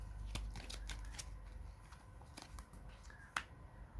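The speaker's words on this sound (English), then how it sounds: "So I'll shuffle the cards again." Playing cards from a Zombies! board game being shuffled by hand, a run of quick crisp riffling snaps and flicks over a few seconds, close and fairly quiet, with no talking.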